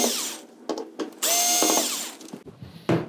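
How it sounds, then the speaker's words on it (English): A power drill backs screws out of the chassis of a VIZIO V436-G1 television, with several short whirring bursts and then a longer sustained run, close and loud with no voices. "now we're just gonna remove the two screws here, and this should come up and away from the chassis"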